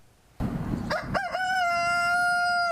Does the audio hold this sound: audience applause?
no